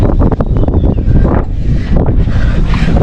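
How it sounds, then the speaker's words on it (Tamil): Strong wind roars and buffets the microphone near the top of Ambuluwawa tower, loud and continuous, surging in gusts throughout with no talk. "அந்த காற்று அடிக்கிறது"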